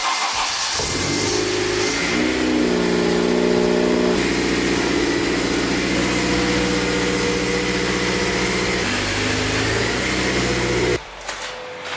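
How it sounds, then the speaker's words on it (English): Honda Civic Type R FD2 starting cold after sitting for a month, cranking briefly then settling into a loud, steady idle with a high, even engine tone that runs close and alone for about ten seconds before cutting off. "I ain't started my car for like a month because it's just been sitting and I have to move it. So cold start"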